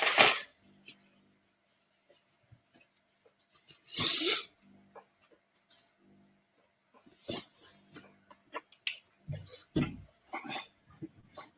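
Several small, sudden sleepy sneezes burst out at intervals among soft breaths and faint rustling in a quiet room.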